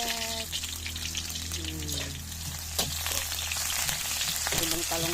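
Sliced onion sizzles steadily in hot oil in a pan while eggplant adobo is being cooked, a constant crackling fry under faint tonal background sounds.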